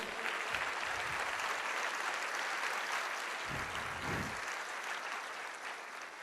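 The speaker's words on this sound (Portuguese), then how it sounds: "Você pode aplaudir o Senhor?" A church congregation applauds the Lord, a long even wash of clapping heard somewhat distant and moderately quiet, with faint low thumps partway through.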